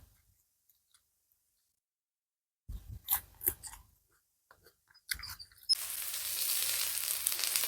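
Stone fish (kal meen) from the Kaveri river roasting on a hot stone at an outdoor village cookout, a faint broad sizzle that rises and holds steady, preceded by a few scattered clicks and scraping handling sounds.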